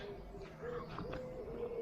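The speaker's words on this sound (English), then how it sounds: "Hear all the pigeons and everything." Faint pigeons cooing in the background, soft low murmuring calls over quiet outdoor ambience.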